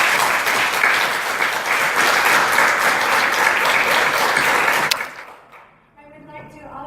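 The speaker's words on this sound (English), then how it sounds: "And let's give a big round of applause." Audience applause at an Oxnard College mayoral candidates event, steady dense clapping from a crowd for about five seconds before fading out, followed by a voice starting to speak.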